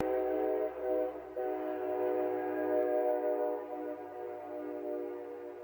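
A train sounding a loud, sustained horn chord with a low rumble beneath, continuous and fairly close, no voices.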